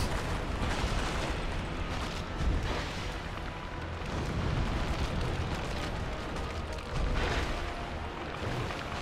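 A fireball explosion in Dark Souls 2 during a fight with the Skeleton Lords, heard as a sustained, loud roaring blast with repeated booming surges throughout, with no voices over it.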